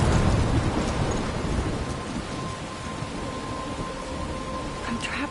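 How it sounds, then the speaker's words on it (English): A thunderstorm with heavy rain in the video game Life is Strange, a loud continuous downpour with deep thunder rumbling throughout and no voices. "I'm trapped in a storm?"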